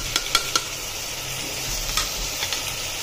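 Mutton frying with ground coriander and turmeric in a pot, a soft continuous sizzle broken by a few light scrapes of a spoon against the metal, close and quiet with no voices.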